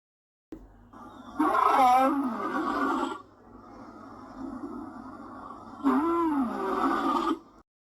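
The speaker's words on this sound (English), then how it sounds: "Lion roar." Lion roaring twice, each a long, deep, groaning bellow separated by a lower rumbling pause, close and loud in an otherwise silent setting.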